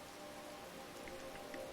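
Steady rain falls in the Skyrim video game around the village of Riverwood, a soft, even hiss of drops with no voices.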